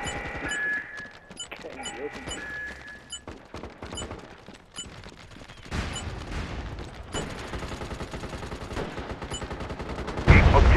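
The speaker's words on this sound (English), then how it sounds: "You weren't kidding about that fucking sniper" Video game gunfire during a multiplayer sabotage match on Syr Darya, including a sniper: sharp bursts of shots and rapid automatic fire, some near and loud, some farther off, with players talking over the action.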